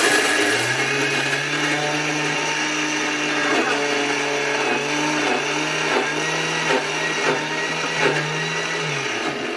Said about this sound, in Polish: będzie mega głośno, bo te pierwsze herbatniki muszą zostać zmiksowane